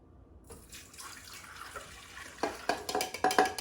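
Water runs into a container for pizza dough, starting after a brief silence as a soft pour, then turning into louder splashy bursts near the end.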